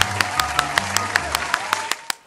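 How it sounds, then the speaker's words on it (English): Clapping from a small group, sharp periodic claps about every fifth of a second over a background tone and low hum, fading out at the end. "Everybody give a huge round of applause for Toast and Fluffbean."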